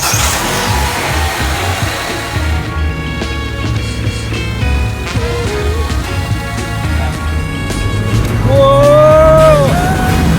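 Small Mini car engine revving hard under acceleration, its note climbing and swelling louder toward the end, with a few exclamations faint in the background.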